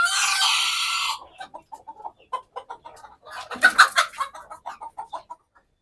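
Native village chickens cluck inside their coop, a run of short, close clucks and squawks following a brief burst of loud noise at the start, irregular and lively.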